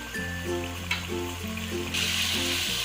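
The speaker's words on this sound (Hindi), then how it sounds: "अभी हम 1 से 2 मिनट इसको भून लेंगे।" Mutton frying in ghee for nihari, a hissing sizzle that swells strongly near the end over steady, tonal background music.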